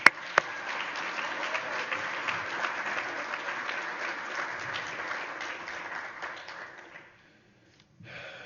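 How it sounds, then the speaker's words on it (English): Audience applause at a 15th anniversary gathering in Phoenix, a moderate, sustained clatter of clapping that fades out around seven seconds, followed by brief silence and a faint return of sound. "I think both of them deserve a round of applause"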